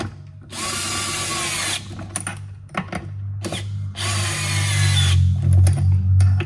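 Power drill driving stainless steel bolts into an aluminum driveshaft support on a 3.0-swapped B5 Audi, two loud sustained whirring bursts separated by clanks and tool handling, with a steady low engine-like hum throughout.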